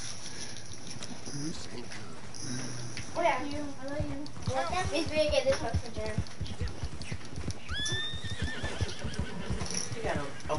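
Horses in a video game, with clip-clop hooves and a sharp neigh heard under constant lively talk from players, the game sounds moderately loud behind the voices.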